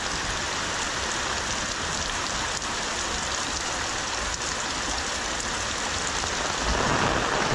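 Steady heavy rain falls in Konkan during a sudden downpour over paddy fields, a dense continuous hiss that swells slightly louder near the end, with no voices.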